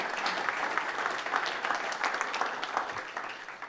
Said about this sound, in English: Big round of applause for Chauncey.